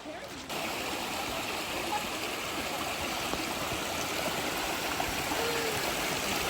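A clear stream in a forested national park rushes steadily over rocks, a dense, continuous wash of water close by that holds level throughout, with faint voices mixed in.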